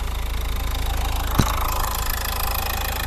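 A 2011 Nissan Qashqai +2 engine runs at a steady idle, a close continuous hum with a rhythmic pulsing texture and one sharp knock partway through, no voices.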